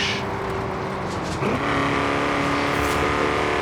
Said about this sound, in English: it does have a very good sounding engine